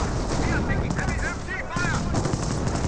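Artillery barrage in Company of Heroes, a dense, continuous rumble of explosions and gunfire filling the whole stretch at steady loudness, with a commentator's voice running over the din.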